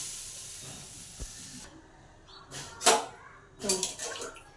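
Water is poured into a pan of potato and pointed gourd curry, setting off a sharp steamy hiss that flares in a few bursts over a faint, lower simmer.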